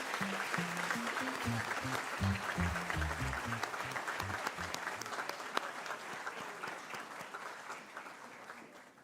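A graduation audience applauds at a business administration ceremony, a full round of clapping over soft background music that slowly tapers off toward the end.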